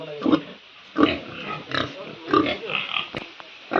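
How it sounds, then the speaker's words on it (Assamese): White pigs at a pig farm in Assam eating taro make repeated low grunts and snorts nearby, in an irregular rhythm, with a person speaking among them. "এইটো চাওক, বগা গাহৰি।"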